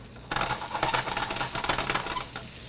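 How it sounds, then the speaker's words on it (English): Eggs sautéing in a pan with brisk stirring and scraping over a soft, steady sizzle, close by and continuous, with no talking. "That's nice and sauteed."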